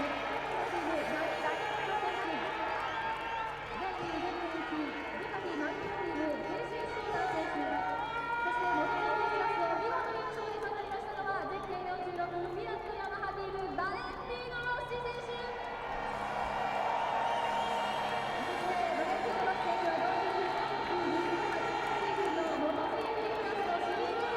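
A packed MotoGP grandstand roars and cheers for world champion Valentino Rossi at the 2008 Japanese Grand Prix podium, a loud, sustained wash of crowd noise with whistles and shouting that swells steadily and never lets up.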